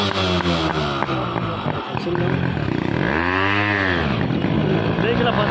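A Yamaha RX motorcycle two-stroke engine runs loud and close, its pitch swelling in a revving arc midway before settling back to a rough idle, with a voice talking over it.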